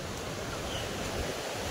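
Steady broadband rush of water flowing in a stream and small waterfall inside a dense forest at a campsite, continuous and fairly close with no voices.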